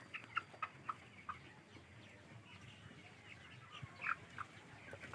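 Chickens at a chicken farm in Parung, with scattered soft clucks and short calls at a distance over a steady low background hum.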